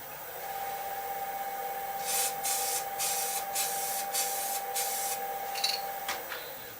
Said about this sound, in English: I feel like I have a lot of control over what I'm spraying here.